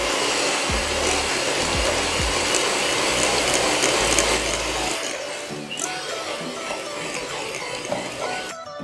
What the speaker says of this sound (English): I've been beating this on high speed until the chocolate buttercream has become very light and fluffy.